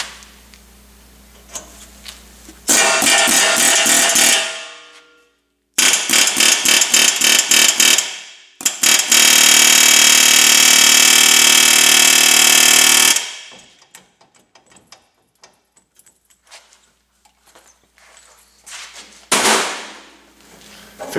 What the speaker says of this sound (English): I'm just going to open up the slower spindle a bit to release the ball joint.